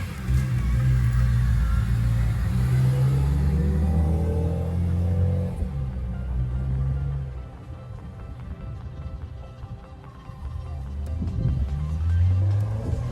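A BMW M3 pulls away after a subframe repair, its engine rumbling low and revving up through a couple of rising gear pulls, then easing off before building again, fairly close and alone.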